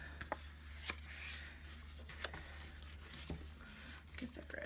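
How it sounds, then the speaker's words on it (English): Paper card base folded and creased by hand, with soft rubbing and scuffing plus a few sharp little taps, faint and close against a steady low hum. "I'm going to grab my card base here. Okay. So I'm going to fold this."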